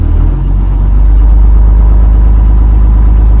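A school bus engine held at about 1,000 RPM in drive during a parking brake check gives a loud, steady low rumble that stays constant, with no talk over it.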